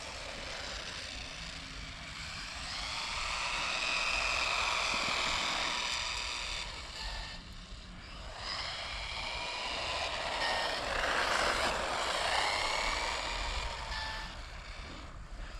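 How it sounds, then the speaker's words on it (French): A Haiboxing mini RC car's electric motor whines outdoors, swelling as it accelerates progressively toward full throttle, easing off, then climbing again in a fairly faint, continuous drone. "Tu écoutes aussi le moteur, hein, accélération progressive jusqu'à fond."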